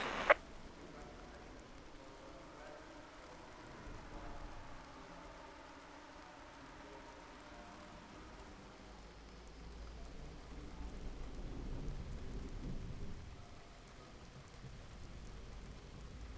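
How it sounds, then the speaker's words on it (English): Rain falls in a GT3 racing session on the Zandvoort circuit in Assetto Corsa Competizione, a faint, steady patter with a low rumble that rises and fades, no voices. "there is some rain in this session, so watch out for slippery curves"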